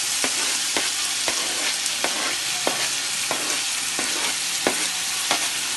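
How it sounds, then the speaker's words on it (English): Tomatoes and onions sizzle steadily in a hot pan, with a utensil stirring and tapping at irregular intervals throughout; no voices. "after frying the fresh tomatoes, the onions for a little while"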